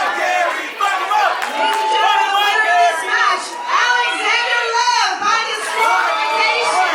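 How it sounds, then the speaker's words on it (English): A wrestling crowd at a southern honor wrestling event roars and shouts continuously, with excited yelling and cheering rising and falling in waves and a commentator's voice mixed in. "the crowd is going nuts here"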